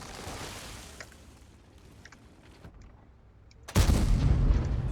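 A tank cannon shot in World of Tanks, fired from an M48, lands as a sudden loud boom late in the moment, breaking a quieter rumbling backdrop and leaving a sustained heavy roar behind it.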